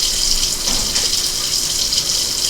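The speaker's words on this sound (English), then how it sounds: "I can just add this hot water in there." Hot water pours steadily into a canning pot of jars for canning tomatoes, a loud, continuous gushing splash with no pauses or talk.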